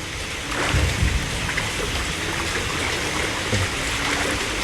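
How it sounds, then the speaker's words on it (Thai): Steady rain pours down during flooding in Bangkok, a dense continuous hiss of water with a few louder splashes, and no voices. "ตอนนี้ฝนก็ยังตกมาอยู่เรื่อยๆนะครับ"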